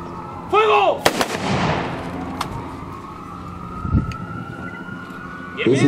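A single sharp rifle shot from an honor-guard volley at a funeral tribute cracks out, followed by a lingering echo and a second fainter report, with brief shouted Spanish commands before and after.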